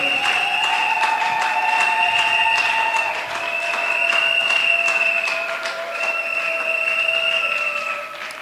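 A church congregation applauds and cheers in praise of the Lord, steady sustained clapping with voices and tonal music or singing running through, loud and continuous with brief dips.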